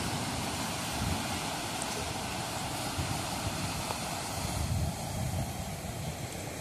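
Calm Atlantic Ocean waves break at the mouth of the Rio Almada in Ilhéus, Bahia, at low tide. A steady, moderately faint wash of surf carries on throughout, with no talking.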